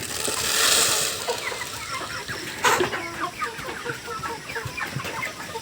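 Tiger breed roosters clucking at close range, a dense run of short calls with one louder squawk partway through and no talk.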